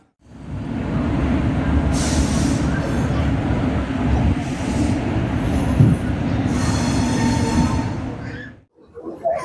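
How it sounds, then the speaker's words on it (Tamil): Nellai Superfast Express train at the Chennai Egmore platform, a loud steady rumble of rail cars rolling past with bursts of high wheel squeal, station noise, and voices underneath. "நெல்லை சூப்பர்ஃபாஸ்ட் எக்ஸ்பிரஸ் 9வது பிளாட்பாரத்திலிருந்து 8:40 புறப்படும்"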